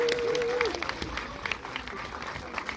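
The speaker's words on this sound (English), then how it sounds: "Keep on clapping." An audience claps for the cast and director of Chicken Run: Rise of the Nugget, with a steady stream of many hands at moderate loudness and a brief voice near the start.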